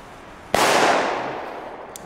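A Belgian Red Banger firecracker sets off one sharp, loud, close bang. A broad whooshing decay tails off over the next second, followed by a small pop near the end.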